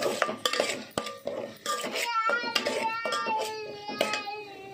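Spoon stirring red chili powder and spices into pav bhaji in a pan, with repeated metal scrapes and clinks against the pan at close range, steady and busy throughout.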